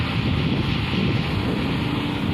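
Strong wind sweeps across an open rice field, buffeting the microphone with a loud, steady roaring rumble that never lets up, with no voices.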